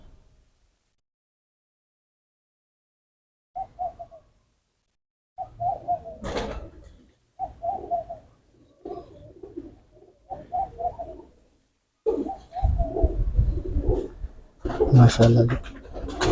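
Multan breeder pigeons coo in short, close bursts, with louder rustling and clattering near the end, while someone speaks briefly between the calls.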